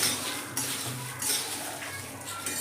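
Puffed rice stirred in a hot wok with a metal spoon off the flame, close scraping and clinking strokes repeating every half second or so.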